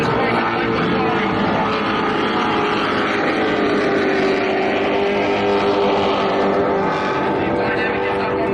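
Racing powerboat on Lake Macquarie running flat out during the first race, a loud continuous engine roar with a steady droning pitch filling the whole stretch.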